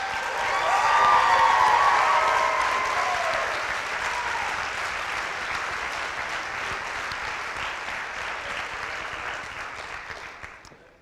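Applause after a college dance competition performance, a large crowd clapping loudly with scattered cheers, gradually thinning before fading out at the end.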